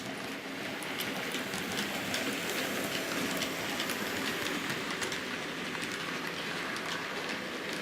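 A Bachmann 57xx Pannier Tank model train pulls a long rake of wagons, giving a steady, close, continuous rumbling rattle with faint rapid clicking over the track joints, unbroken and with no voices.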